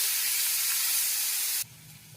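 Onions hitting hot oil with mustard seeds and urad dal in a pan for a spinach stir-fry, giving a loud steady broadband sizzle that cuts off abruptly near the end and drops to a quieter low hum.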